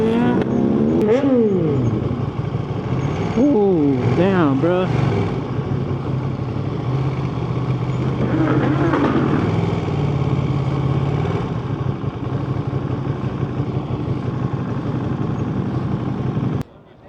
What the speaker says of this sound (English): we just saw a bunch of bikers pull by